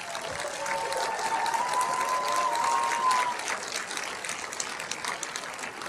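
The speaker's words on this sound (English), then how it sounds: "give them a round of applause" Commencement audience in a large hall breaks into sustained applause, a dense wash of many hands clapping steadily for several seconds at a moderate distance, with a faint whistle-like tone running through the middle.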